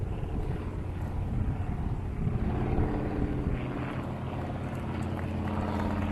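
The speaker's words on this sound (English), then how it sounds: "The next aircraft will be a Waco biplane trainer." A replica Waco biplane trainer, a World War II training aircraft, flying over in a classic-plane flyover, its propeller engine giving a steady, moderately loud droning rumble throughout.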